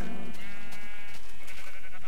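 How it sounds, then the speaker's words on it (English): Sheep bleating in the Minecraft video game, rainbow-colored flock on a farm with chickens nearby, a short wavering bleat standing out clearly at the start over a low background, no talking. "And I have rainbow sheep."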